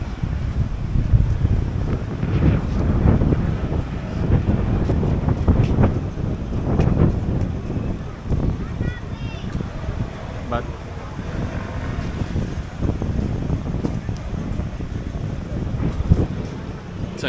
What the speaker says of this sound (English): Quite a windy night.